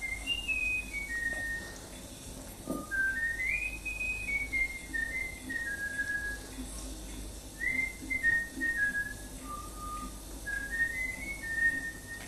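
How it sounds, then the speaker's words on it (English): A man whistles a melodic tune alone, phrases rising and falling in bright clear notes with short pauses between them, over a faint steady background hiss. "a German forester whistling the tune he wants his bullfinch to learn"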